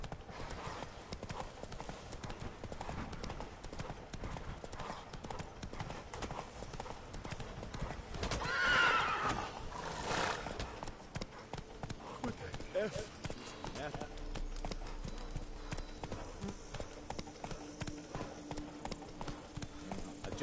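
A horse in the Witcher 3: Wild Hunt game, hooves clip-clopping in a steady galloping rhythm throughout, fairly quiet, with a brief whinny-like swell midway and a voice speaking over it.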